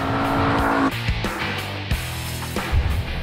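A Ford Mustang with a 444-horsepower engine accelerating hard on asphalt, a loud engine roar broken by quick gear changes, up close and without talk.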